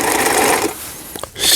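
Janome 890 sewing machine running a three-step stitch, a loud, close, rapid mechanical whir that slows and stops after about a second, followed by a brief clack and the motor restarting.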